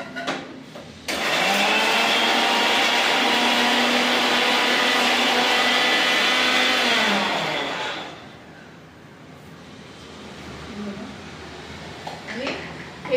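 A kitchen mixer grinder whirs loudly as it grinds green chili, garlic and ginger into paste, a steady high whine lasting several seconds before cutting out, followed by quieter room sound and faint clatter.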